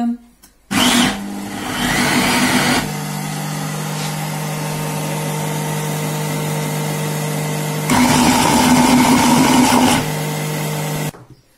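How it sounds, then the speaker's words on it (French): A kitchen machine kneading brioche dough, a loud, steady motor whine with a constant mechanical drone that surges louder in two bursts, running continuously for several seconds. "je vais pétrir pendant 2 minutes"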